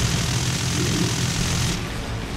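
A propeller plane engine in the War Thunder video game drones loud and steady, a dense roar with a low throbbing pulse that eases slightly near the end, with no talk.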